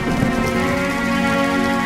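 Steady, dense rain falls during the paddy-growing monsoon season in a cartoon farm story, a continuous hiss with a low tonal hum beneath it and no voices.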